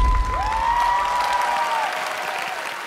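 A studio audience at a Vietnamese televised singing competition applauds in a steady, moderately loud wash of clapping, with a long sustained tone from the stage sound running over it.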